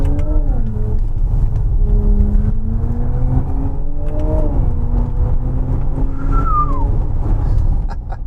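Simulated engine sound from a Genesis GV70 EV luxury electric SUV, a synthetic rising and falling engine-like drone with shifting pitch sweeps like gear changes, loud and continuous throughout.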